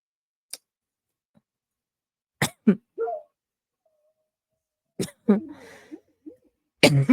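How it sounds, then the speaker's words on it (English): Several short, sharp coughs come in separate bursts with quiet gaps between them, close by, with a little throat clearing and murmuring mixed in. "I still have my cough just a little bit"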